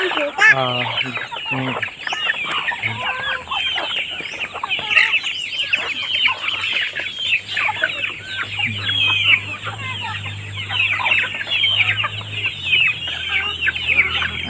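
Chickens and ducks being fed rice bran, a dense chorus of clucking and chattering fowl close by, continuous and busy, with a low murmur underneath and occasional louder calls.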